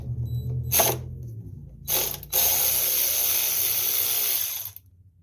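A ratchet fitted with a 7/16 socket loosens carburetor bolts on a Craftsman T2200 riding lawn mower: two short clicking bursts, then a longer run of rapid ratcheting clicks, close and clear.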